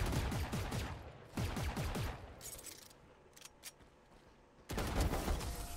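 Guardian rifle gunfire in the Valorant video game: loud bursts of shots in three clustered volleys, with a quieter stretch of scattered sharp cracks between them.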